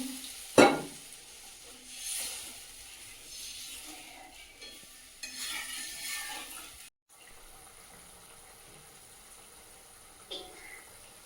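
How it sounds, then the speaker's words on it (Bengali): Fish kalia gravy simmers and bubbles in a pan while being stirred, a soft steady sizzle with occasional scrapes and a sharp clink near the start, the sound cutting out briefly before resuming. "ঝোলটা ফুটে গেছে ভেজে রাখা মাছগুলো এর মধ্যে দিয়ে দেবো"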